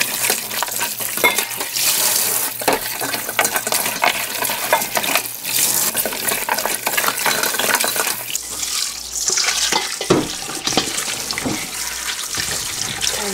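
Tap water runs steadily into a sink while pork back bones are rinsed and rubbed clean, with occasional knocks and clatters of bone against the basin, close and continuous without talk.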